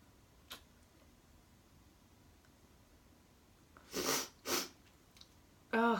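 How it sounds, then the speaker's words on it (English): A person with one red, irritated eye sniffles twice in quick succession partway through, while doing a makeup application, the sniffs close and fairly soft over a quiet room, with a brief further noise at the end. "Oh, the sniffling is so gross."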